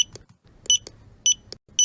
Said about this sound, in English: the computer beeps as the books slide across the counter